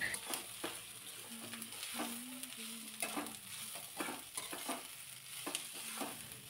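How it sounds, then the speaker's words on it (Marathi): Thinly sliced cabbage is stir-fried in a pan, with a soft continuous sizzle broken by repeated scraping and tossing knocks from a spatula at an uneven rhythm, and no voices over it. "थोडा वेळ कोबी परतून घेतला"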